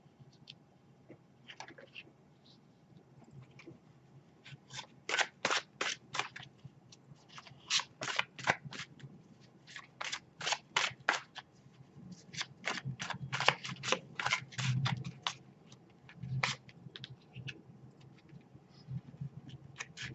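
A tarot deck is shuffled by hand in quiet, close crisp riffles and rapid card flutters, coming in repeated bursts with brief pauses and soft handling noises between them.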